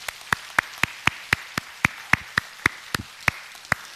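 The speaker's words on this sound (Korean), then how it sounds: "우리 하나님께 영광의 박수 올리겠습니다" A church congregation claps together after a closing prayer, a steady, evenly spaced run of sharp claps filling the sanctuary with no talking.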